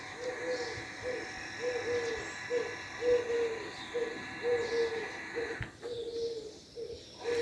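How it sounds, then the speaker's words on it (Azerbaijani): Birds call in a garden at sunrise, a soft repeated cooing or hooting at a steady rhythm over faint background hiss, moderately distant and alone without talk. "Görürsünüz, quşlar nə gözəl oxuyur."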